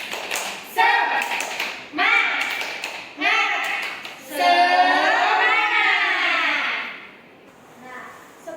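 Primary school children in an Indonesian classroom chant a rhythmic clapping cheer in bursts, their loud voices sounding over short claps, ending in a longer drawn-out shout.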